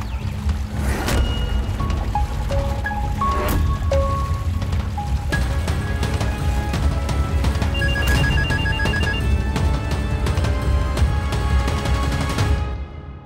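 A telephone rings on and on without being answered, its repeated electronic ringtone sounding clearly over a steady, loud wash of background noise that resembles rain, with no voices.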